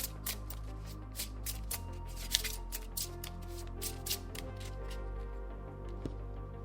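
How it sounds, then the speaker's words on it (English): Two decks of playing cards, a player deck and a solo opponent deck for the card game Neon Reign, are shuffled by hand in a quiet room, giving repeated crisp riffling bursts in an uneven rhythm close to the listener. "So I'm shuffling my player deck, also shuffling the solo opponent deck"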